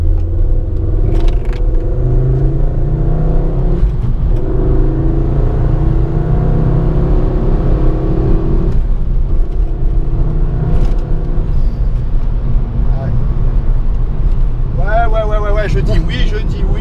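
A Ford Focus RS compact sports car's engine drones and rumbles steadily from inside the cabin while driving, with some rising revs, as people talk over it.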